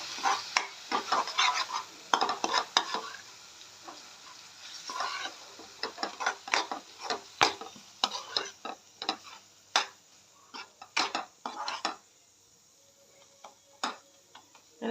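Ground peanut powder sautéing in oil for Maharashtrian amti gives soft sizzling and a long run of sharp spoon scrapes and taps against the pan, fairly quiet with no talk.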